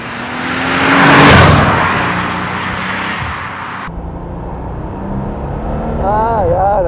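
A 1989 Porsche 911 Turbo Targa with a five-speed gearbox runs with a steady engine note that swells loudly early on, then settles into a lower drone, with a voice speaking over it near the end.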